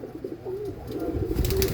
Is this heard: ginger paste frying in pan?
no